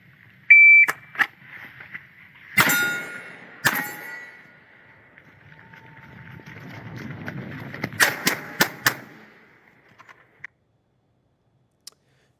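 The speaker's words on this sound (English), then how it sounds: "each steel target got 1 shot, and then the 2 cardboard targets got 2 shots apiece" Gunfire during a USPSA shooting drill on a range rings out as sharp, separated shots, with loud metallic clangs from steel targets followed by a quick cluster of shots, heard up close and without talk.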